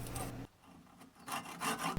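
Rhythmic rasping strokes of a hand saw cutting a dovetail across walnut end grain, a short burst, a pause, then several more strokes, close up with no talking.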